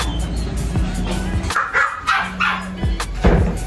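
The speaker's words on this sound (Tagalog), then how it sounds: "So yun, napakainit talaga ng mga aso namin." Household dogs bark close by in several sharp bursts, a few seconds of repeated barks with some yips mixed in, and no one is speaking.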